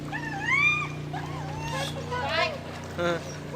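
A dog whines and yips in rising, wavering cries over a low steady engine hum, with voices nearby, at Turtle Cove.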